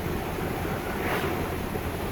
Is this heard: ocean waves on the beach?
yes